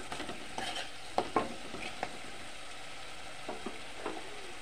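Pan-fried masala for a poa fish curry tempered with curry leaves sizzles quietly while a spoon stirs it, giving a few sharp scrapes and clicks over a low steady hiss.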